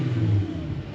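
A car engine revs with a deep, throaty roar, close and loud, easing off slightly after a brief peak.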